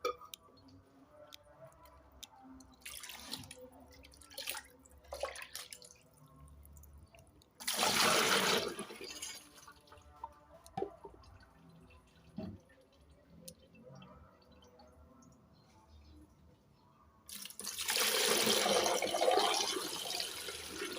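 Liquid amino acid fertilizer is poured into a gallon container through a funnel, two loud splashing bursts of pouring separated by quieter trickles, drips and light handling knocks.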